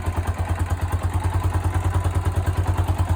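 An MT350 motorcycle engine idles close by, a loud, steady, lumpy thumping with an even pulsing beat and light mechanical clatter, heard alone.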